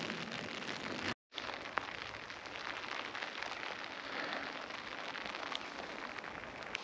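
Rain falls steadily on an ultralight tarp and bivy at a snow camp, a dense close patter with scattered heavier drops and a brief dropout near the start.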